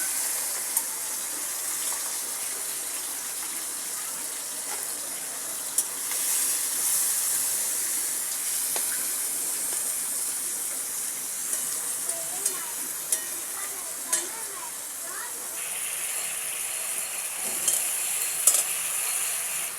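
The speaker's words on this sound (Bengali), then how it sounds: "তারপরে কড়াইয়ে গরম তেল দিয়ে দিয়েছি, এবারে মাছগুলো দিয়ে দেবো।" About 300 grams of giant freshwater prawns fry in hot oil in a wok for a Bengali malai curry, giving a loud, continuous sizzle and hiss with occasional sharp pops and crackles throughout.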